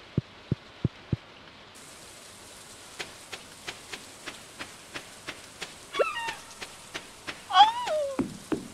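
Rain in the farming game Stardew Valley patters softly and steadily, with sharp tapping clicks and a few chirpy game tones over the quiet wet hiss.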